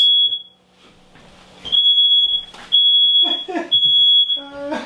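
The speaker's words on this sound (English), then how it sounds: "your family's safe because the smoke detector works" Smoke detector shrieking while venison tenderloin steak is cooked, a piercing high electronic tone sounding in repeated long pulses, loud and close, with people talking over it.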